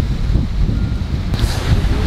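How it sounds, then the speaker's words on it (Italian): Strong wind buffets the microphone at a cliff edge in Madagascar during a sand-blown storm, a continuous close roaring rumble with a brief gust near the end. "Qui il vento è ancora più forte."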